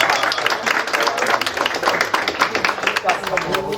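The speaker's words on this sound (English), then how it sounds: "It's always good to get applause at the beginning of a speech or something, a talk." A luncheon audience applauds as a talk begins, a dense, steady wash of many hands clapping together, fairly loud and continuous throughout.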